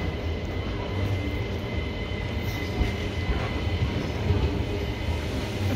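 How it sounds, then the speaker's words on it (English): A Redcliffe train passes nearby with a steady rumbling roll of wheels on rails, continuous and fairly loud throughout, with no one speaking over it. "There's the Redcliffe train."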